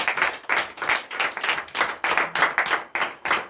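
A church congregation at a Wednesday morning prayer service claps together in a steady, rhythmic beat to acclaim Jesus, the loud, even claps repeating about three times per second with no speech over them.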